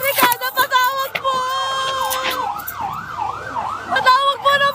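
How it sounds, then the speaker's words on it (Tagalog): A loud wailing fire truck siren rises and falls in sweeping cycles close by, with people shouting over it amid street noise and sharp clanks. "May tumutunog na sirene."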